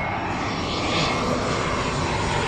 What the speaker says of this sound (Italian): Ecco il motore dell'A320 di British Airways che proviene da Londra,